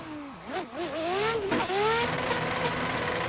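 Nissan R33 pro drift car engine in a racing video game revs hard to the redline, pitch rising and dipping in quick swoops before holding a loud, sustained high-rev scream, with no talk.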